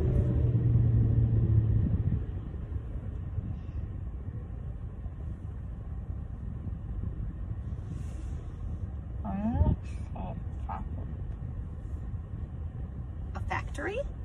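A low rumble, fitting a loud truck passing, fills the opening two seconds, then fades to a steady background drone inside a car or room, with a few short squeaks and clicks later on.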